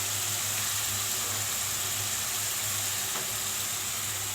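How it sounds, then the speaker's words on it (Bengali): Chicken pieces go into a pan of sizzling spice paste, giving a steady, even hiss with a low hum underneath and no talking. "এখন আমি গোশটা দিয়ে দিব"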